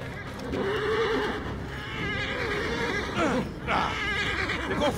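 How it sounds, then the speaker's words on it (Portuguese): A horse in a video game whinnies loudly and repeatedly, with hoof clatter and other game noises around it. "Esse cavalo pode ser bem útil."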